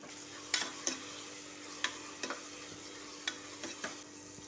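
Chicken biryani masala being stirred after green chillies, coriander and mint go in, with a string of sharp spoon scrapes against the pot over a soft, steady sizzle, fairly close and without talk.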